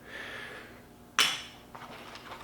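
A small metal pry bar clanks sharply once against other tools in a truck tool kit pouch, a single close metallic hit with faint rattling afterward and no talking.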